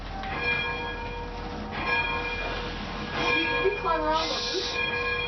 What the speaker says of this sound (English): the bell was still attached by a cord, which I rang